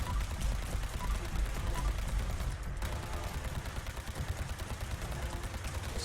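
Rapid, dense bursts of laser pistol fire from the Quad Lucky Laser Pistol in Fallout 76, a continuous loud barrage of energy shots with a brief pause midway, no talking.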